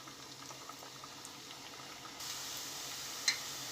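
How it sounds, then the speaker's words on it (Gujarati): Onion bhajiya drop into hot oil in a kadhai, producing a soft, steady bubbling hiss that grows noticeably stronger partway through, with a brief sharp crackle near the end. "તો આ રીતે આપણી કઢાઈમાં જેટલા આવે એટલા આપણે કાંદાના ભજીયા મૂકી દઈશું।"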